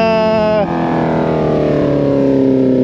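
A motorcycle at a seaside bike rally in Guadeloupe, its engine revving loudly and close, with a falling pitch as the revs drop and then a steady rising drone.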